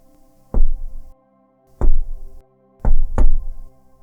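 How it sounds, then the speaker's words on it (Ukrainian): Light knocks on a nearby window, heard close and fairly loud over a faint steady hum: one knock, a pause, another, a pause, then two in quick succession. "пролунав легкий одиночний стукіт у сусіднє вікно"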